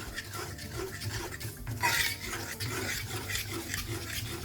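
A spoon stirs cake batter made with dissolved sugar and a half spoon of soda in a bowl. The mixing gives a wet, scraping, slightly clattering churn close up, irregular and continuous, with no talking.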